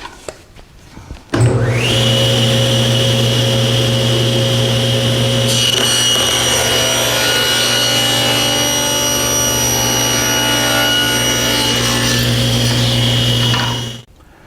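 Table saw ripping a thin strip of molding off a board, a loud steady whine with a low hum that holds from start to finish, the blade starting at once and running down at the very end.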